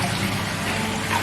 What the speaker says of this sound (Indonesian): di sini saya juga pasang ada aerator cukup kencang teman-teman di tiap sudut